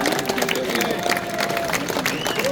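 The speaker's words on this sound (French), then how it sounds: "Je crois que vous pouvez les applaudir." Crowd at a Breton bagad pipe-band festival results announcement in Dol de Bretagne applauds in a dense, continuous patter, with voices murmuring underneath throughout.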